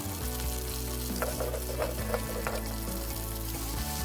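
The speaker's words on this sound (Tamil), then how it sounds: "இந்த பச்சை மிளகா அந்த ஆயிலில் குக் ஆகணும்." Green chillies fry in hot oil in a pan, giving a steady, close sizzle that holds at even loudness throughout, with a few light stirring clicks partway through and no voices.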